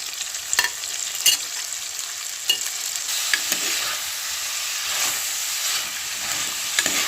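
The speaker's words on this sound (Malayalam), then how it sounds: "ഇതിലേക്ക് നമ്മൾ എടുത്തു വെച്ചിരിക്കുന്ന നമ്മുടെ ചെമ്മീനും കൂടെ ഇട്ട് കൊടുക്കാം" Prawns sizzle in a frying pan with onion, tomato and curry leaves for a prawn theeyal, a steady bright hiss broken by sharp scraping clicks as the mixture is stirred, close and fairly loud with no talking.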